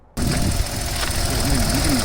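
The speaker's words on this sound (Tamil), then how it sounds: "பட் வண்டியை பாருங்கள், சத்தமே இல்லை, அவ்வளோ அருமையாக வண்டி ரன் ஆகுது." A Renault Triber, a seven-seater, idles smoothly and steadily with a low continuous engine hum that stays even throughout, with faint voices in the background.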